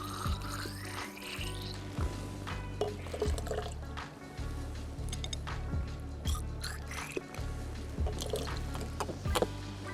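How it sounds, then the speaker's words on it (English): Tap water splashes and sloshes inside a sample tube being rinsed during stream water sampling, with irregular close-up gurgles, drips and small knocks, and no talking. "you want to clean out the tube twice with tap water to ensure that everything has gotten out"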